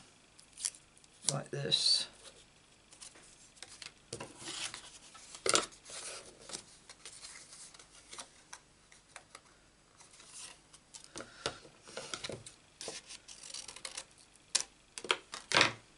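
Scissors snip through paper card pieces for a Stampin' Up craft project, a series of crisp, close cuts in uneven bursts. Someone speaks briefly between them.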